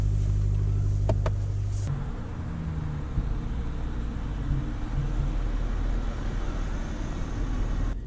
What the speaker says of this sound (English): This car is surprisingly quiet, even when it's on the engine power.